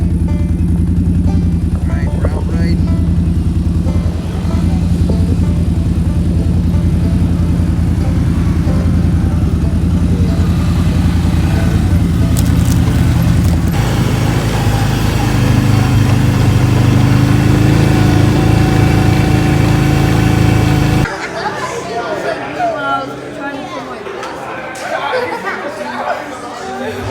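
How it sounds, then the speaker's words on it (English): A four-wheeler ATV engine drones loudly and steadily while riding on a father-and-sons campout, its low hum changing near the end, with people chatting over it. "we're out on a four-wheeler ride"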